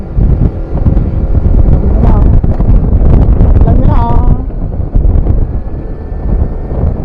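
Heavy wind buffets the microphone in loud, continuous rumbling gusts outdoors, while people talk underneath.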